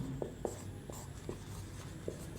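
Handwriting with a pen on paper during a math class: faint, scattered scratchy strokes under a steady room hum, each brief and soft.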